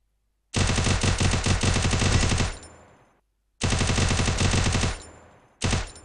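Automatic gunfire in a shooting video game erupts after the fire button is pressed. Two long, loud rapid bursts are followed by a short third one, each cutting off sharply into a brief echoing tail.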